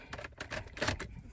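Car keys jangle and clink together in a few quick bursts, close and fairly quiet, with a brief louder shake near the end.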